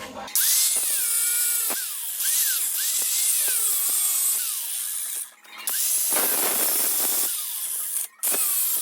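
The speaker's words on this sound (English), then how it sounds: "I'm just gonna take the angle grinder and just basically cut them in half" Angle grinder cutting through car seat mounting bolts on a Honda Civic EF hatchback, a loud continuous whine with pitch sweeps and two brief cutoffs where the disc bites and releases.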